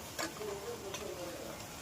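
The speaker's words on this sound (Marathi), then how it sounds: "आता आपण त्याच्यामध्ये चिंबोरी घालून घेऊया" Crabs dropped into a simmering Maharashtrian crab curry and stirred, giving a soft sizzle with light clicks and scrapes of the spoon against the pan.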